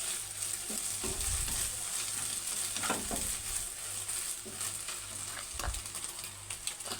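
Eggs fry in oil in a pan for an egg and brinjal curry, broken into large pieces, giving a steady hissing sizzle broken by a few louder scraping stirs and clacks, close up, no one talking.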